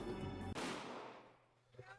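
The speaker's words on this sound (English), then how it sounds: "That was when I heard a gunshot." A single sharp gunshot from the visual novel Higurashi Hou+ cracks out abruptly over a quiet musical backdrop and decays into a long reverberant tail.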